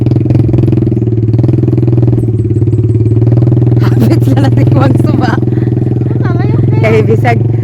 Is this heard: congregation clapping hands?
no